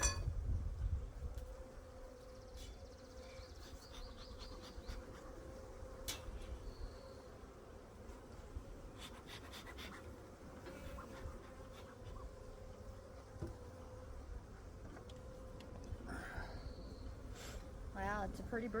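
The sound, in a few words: honey bees buzzing around hive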